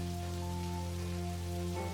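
Rain in Necrobarista, a soft, steady patter of falling water that stays faint and even, with sustained low tonal music humming underneath and no voices.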